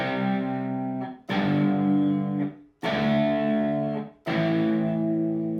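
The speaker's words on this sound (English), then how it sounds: "It's usually a very crunchy distortion, but we'll see what it's like through this" ESP Dan Jacobs electric guitar chords with heavy, crunchy distortion, strummed and left ringing, four hits with short gaps between them, loud and close.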